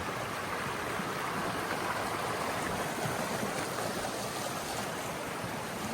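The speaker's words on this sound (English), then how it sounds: "Creek turning. Little waterfall up there." A creek flows over rocks near a small waterfall, giving a steady, even rush of water that continues unbroken at moderate level, with no voices.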